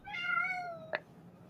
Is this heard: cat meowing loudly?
yes